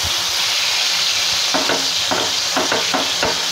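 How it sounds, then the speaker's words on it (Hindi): Chicken fries in hot oil in a pan with a loud, steady hissing sizzle, and a series of clattering stirs joins in over the second half. No one speaks. "फिर ऑयल में मैंने ऐड कर लिया है चिकन को"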